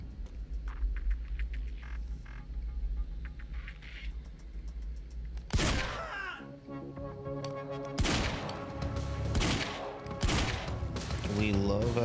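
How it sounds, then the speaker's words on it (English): Heavy pistol gunfire in the Quantum Break video game: a few loud, sharp shots break out midway and repeat in bursts over a steady low hum of game ambience. "We love a heavy pistol."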